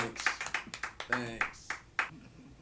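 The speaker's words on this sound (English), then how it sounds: "we got one clap" A lone person clapping slowly at a comedy open mic competition, about nine separate, unevenly spaced claps, fairly close and quiet, with a brief bit of talk in between.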